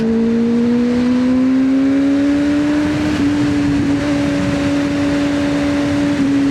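A Kawasaki ZX6R motorcycle engine pulls hard on the road, a loud, steady drone whose pitch climbs and then holds high, heard up close with no talking.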